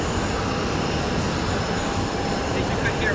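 Constant roar of aircraft engines at a private airport in Charlotte, North Carolina, a loud steady rumble filling the whole clip with no breaks.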